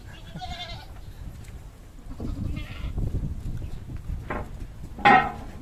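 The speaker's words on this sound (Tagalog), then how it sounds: "Daming kambing, diba?" Several goats bleat in scattered calls, some near and some farther off, amid shuffling and rustling movement.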